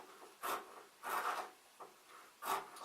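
Fusing is trimmed away from the edge of a waistcoat panel in four short, quiet rasping cuts, heard close and spaced unevenly.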